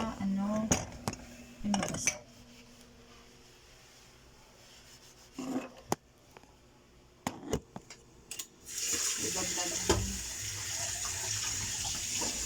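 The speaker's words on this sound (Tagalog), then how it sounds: "nagugas ako ng pinggan namin" Dishes being washed in a home sink: running tap water, clinks and clatters of plates and cutlery, with the water flow growing steady and louder toward the end, alongside occasional background voices.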